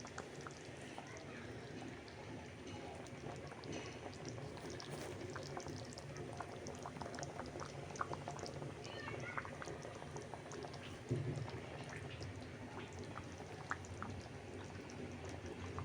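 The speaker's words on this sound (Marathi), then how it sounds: "चिकन ला फोडणी पडलेली आहे आणि ते आता चांगलं शिजतं आहे" Chicken simmers in a pot after a spiced tempering, giving a faint, steady bubbling and soft patter that continues throughout, low and close.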